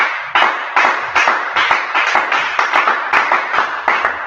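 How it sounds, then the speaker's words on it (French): A congregation at a prayer meeting claps in unison, a steady rhythmic beat of about three loud claps per second, close and strong with a slight room echo. "Est-ce qu'on peut applaudir très fort pour le Seigneur?"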